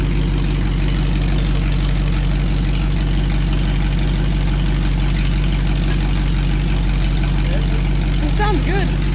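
A straight-piped Ford flathead V8-60 idling nearby, a loud, steady low rumble with an even pulsing exhaust note throughout, with voices talking over it.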